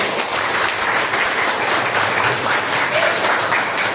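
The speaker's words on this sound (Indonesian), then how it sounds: "Bagus, tepuk tangan." A class applauds after an Islamic lesson on ritual impurity, a steady, even wash of many hands clapping together that lasts without a break.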